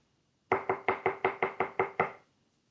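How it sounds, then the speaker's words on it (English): Eight firm, evenly spaced knocks on a door, a quick regular rhythm of close, loud hollow thumps played as a sound effect during a children's story reading, with no talking over them. "there was a loud knock on the door"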